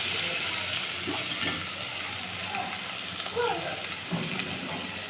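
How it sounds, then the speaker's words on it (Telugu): Soya chunks (meal maker) sizzle steadily in a hot pan as they are lightly stirred for a pulao, with a continuous close frying hiss and a few soft scraping stirs, no talking. "మిల్ మేకర్ వేసి కొద్దిసేపు ఇలా కలపాలి ఎక్కువ కలిపితే విరిగిపోతాయండి కాబట్టి లైట్గా ఇలా ఒకసారి తిప్పేస్తున్నాము"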